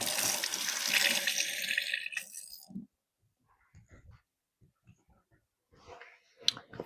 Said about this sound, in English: me wash my hands one more time.